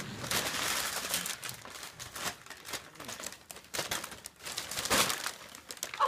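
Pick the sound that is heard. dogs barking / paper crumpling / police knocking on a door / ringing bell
paper crumpling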